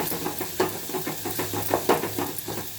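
Ginger and garlic frying in hot oil for a Telugu fish curry, a steady close sizzle and hiss with repeated spoon-stirring scrapes and soft clatters throughout.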